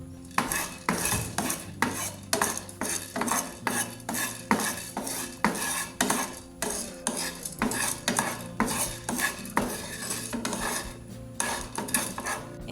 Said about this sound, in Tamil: மிளகு வறுக்கும் போதே எடுத்து வச்சிருக்கிற 2 கிராம் ஏலக்காயையும் போட்டுக்கொண்டு வறுத்துக்கொள்வோம்.